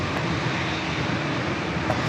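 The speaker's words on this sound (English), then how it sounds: "this is KLM Flight 640, a 8-year-old 787-9 Dreamliner delivered to KLM in" KLM Boeing 787-9 Dreamliner, about eight years old, at San Diego airport, producing a steady, even engine rumble of moderate loudness throughout, with no speech.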